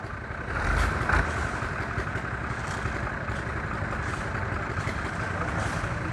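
A tractor trolley loaded with concrete reverses on a highway shoulder construction site, its engine a steady, rumbling drone held close throughout, with a slight swell early on and people talking faintly over it.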